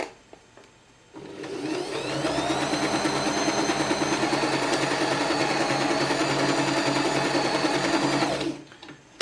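A Janome My Style MS22 sewing machine runs a steady satin stitch, its fast even whirring motor and needle chatter starting abruptly, holding loud and constant for about seven seconds, then stopping, with no talking.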